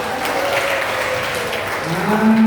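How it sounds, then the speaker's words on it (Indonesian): Students at a school disaster-safety session applaud, a sustained, even wash of many hands clapping at moderate loudness, with a faint tone rising near the end. "Tepuk tangan, tepuk tangan"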